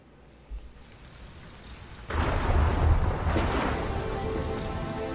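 Rain pours steadily at the opening of a music video, with a thunder rumble swelling in after a quiet start and rolling on beneath the constant downpour.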